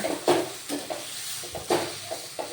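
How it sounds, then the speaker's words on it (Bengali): Taro greens with prawns are stirred in a pan, with a few distinct scraping strokes over a soft sizzle. The clip is short, close and has no speech. "এবার এটাকে ভালোভাবে নাড়াচাড়া করতে হবে।"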